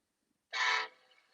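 An HO scale model locomotive sounds its horn in a model rail yard: a single short, bright honk about a third of a second long, then a faint fading tail, with no talk.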